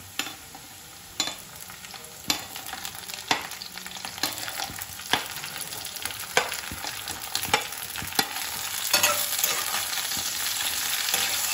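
Thin long eggplant strips fry in hot oil with onions for a mola fish mustard curry, a constant crackling sizzle broken by sharp spatula clacks against the pan at a steady pace.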